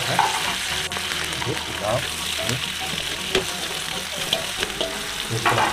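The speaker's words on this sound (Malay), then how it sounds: "Dan kita masukkan ikan kita goreng kita kacau sikit." Fish sizzling in hot oil in a pan as it is stirred for a Malaysian soy-sauce fish dish, with a steady crackling fry, occasional scrapes and clinks of the utensil, and a voice speaking briefly over it.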